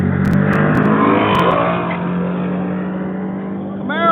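A Camaro launching wheels-up and a Mustang drag racing down the strip, roaring at high volume in a continuous, close engine blast that eases slightly and then swells again near the end.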